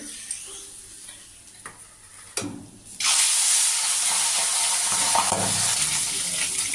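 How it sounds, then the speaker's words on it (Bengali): Pabda fish dropped into hot oil: after a quiet stretch with a couple of clanks, a loud hissing sizzle suddenly bursts up and keeps crackling close by, with no one talking. "সব কটা মাছ এইভাবে আমি ভেজে নেব"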